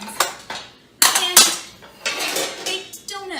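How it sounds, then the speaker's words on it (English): Metal muffin and baking pans, including regular, jumbo, mini and bundt-style tins plus baked donut pans, clatter and clank as they are handled, with several sharp bright knocks and scrapes in an irregular rhythm, close and fairly loud with no talking. "I've got regular muffin pans, jumbo muffin pans, mini muffin pans, bunt cakey muffin thing pans"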